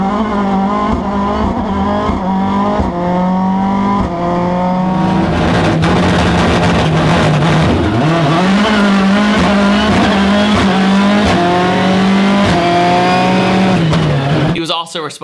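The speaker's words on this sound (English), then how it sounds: "he gave me that sub 2 second 0 to 60 launch I was looking for" A Ken Block race car launches hard from 0 to 60 in under two seconds, its engine screaming through rising gear pitches with tire squeal, loud and close, as a voice talks over it before an abrupt cut.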